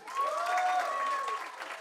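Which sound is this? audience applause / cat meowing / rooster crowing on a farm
audience applause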